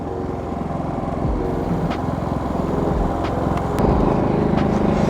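Two LC3000i inverter generator sets run together under a 5000-watt load, a loud, steady engine drone with a low hum that rises slightly in intensity partway through, no voices over it.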